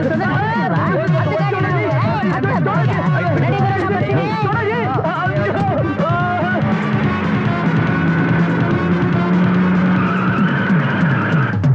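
A vehicle braking to a halt with a drawn-out tire skid in a Kannada action film scene, heard under loud voices, crowd noise and music.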